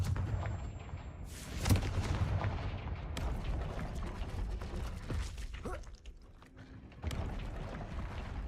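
The Confringo explosive spell in Hogwarts Legacy goes off as a series of heavy booms, one sharp blast early and more bursts later, over rumbling game background noise.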